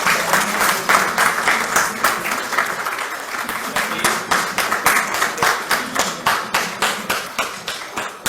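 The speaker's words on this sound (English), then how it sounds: "A huge round of applause from the audience, please." Sustained applause from a conference audience, dense clapping that pulses steadily and stays loud throughout.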